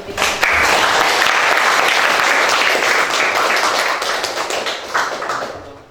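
A class applauds after a presentation: several seconds of loud, sustained clapping from many hands in a room, with crisp individual claps standing out before it tapers off at the end.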